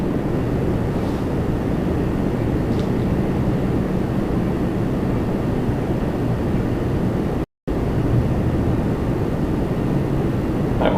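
A KLM airliner passing at Toronto Pearson gives a continuous, fairly loud jet rumble and hiss, steady throughout with a brief gap late on and no talking.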